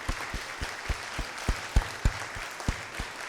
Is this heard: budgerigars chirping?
no